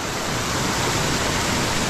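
A swollen river rushes after its water level has risen, making a loud, constant broadband roar close by that never lets up, with no voices.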